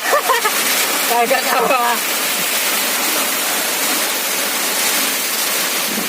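Heavy rain pours down at a fishing casting spot, a dense steady hiss of water that continues throughout, with people talking briefly near the start.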